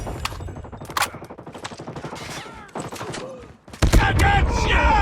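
Mobile shooter gameplay from Call of Duty Mobile with repeated gunfire bursts and rapid shots, fairly loud and continuous, building into a denser barrage near the end.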